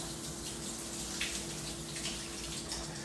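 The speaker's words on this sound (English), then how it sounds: "Let me get some water on this and rinse this off." Tap water runs steadily over a fresh lemon being rinsed under a kitchen faucet, a continuous close splashing hiss with no speech.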